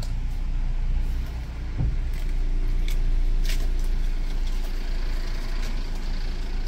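A car driving along a road, a constant broad rumble of engine and tire noise heard steadily throughout with a few faint higher clicks.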